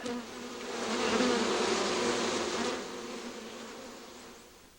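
Honey bees buzz at a royal jelly beekeeping hive, a dense droning hum that swells to its loudest in the middle and then fades, close by with no talking.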